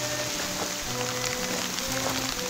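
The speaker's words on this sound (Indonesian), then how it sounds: "Hujan." Heavy rain pouring inside a mountain volcano crater at a campsite, an even, continuous close hiss of drops on the surface with no voices over it.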